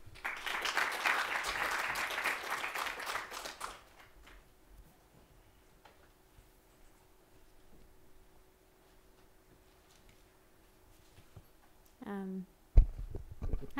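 A lecture audience at The New School applauds Brenda Rosen onto the stage, with a loud burst of clapping that dies out after a few seconds, followed by quiet room noise and a few thumps.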